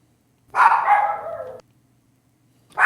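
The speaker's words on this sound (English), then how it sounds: "Sorry if you hear a lot of barking dog today." A small Chihuahua and dachshund mix dog gives one drawn-out, high bark-whine up close, then silence before another yelp begins at the very end.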